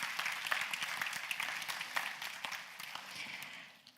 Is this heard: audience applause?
yes